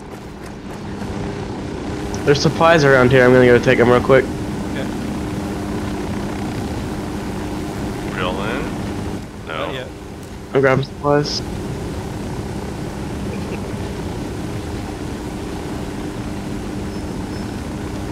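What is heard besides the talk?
helicopter in Ghost Recon Wildlands video game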